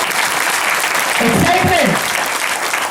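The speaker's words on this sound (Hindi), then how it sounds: "एक छोटा ताली रिएक्शन के लिए" Brief burst of audience clapping at a packed motivational meeting in Lesliganj, Daltonganj, loud dense applause throughout, with a voice calling out over it near the middle.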